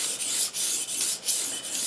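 Freehand sharpening of a Newfoundland skinning knife blade: bright, rasping strokes of steel drawn across a stone, repeating at an even rhythm about every third of a second, close and alone with no voices.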